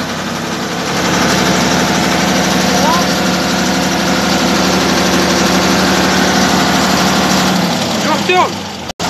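A Deutz 8006 tractor skidding logs, its engine running steadily and loudly close by, a constant low drone that holds throughout before cutting off abruptly at the end.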